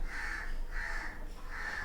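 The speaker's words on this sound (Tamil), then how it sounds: "காக்கா கத்துறது சத்தம் கேட்குறதா?" A crow caws three times in a steady rhythm beside a home kitchen, each call loud and close over a low background hum, with no talking.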